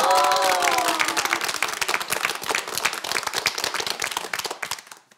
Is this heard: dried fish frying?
no